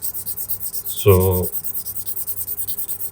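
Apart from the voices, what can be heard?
lightly sanding a leather edge with 2000 grit sandpaper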